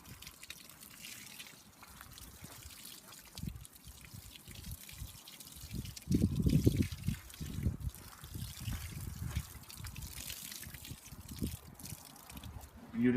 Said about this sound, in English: please make sure that you water this plant immediately